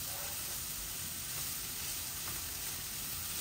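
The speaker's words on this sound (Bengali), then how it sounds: "এইভাবে আমি খোলা রেখে রেখে এগুলা ঝরঝরা করে ভাজি করে ফেলবো" Sliced bitter gourd (karela) fries uncovered in a pan with a steady, even sizzle and hiss that holds constant and fairly soft throughout, with no talk.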